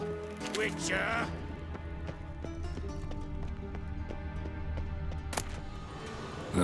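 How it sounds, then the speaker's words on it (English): Steady rain hisses down in The Witcher 3 outside a camp, with a soft continuous patter, occasional horse hoof clops and a brief voice over the top. "Looks like rain."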